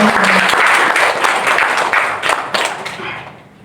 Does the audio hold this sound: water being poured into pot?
no